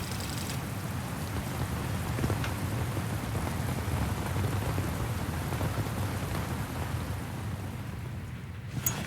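Continuous rain pattering down in the video game Metal Gear Solid: Peace Walker, with a low rumbling undertone, steady and fairly close, no speech.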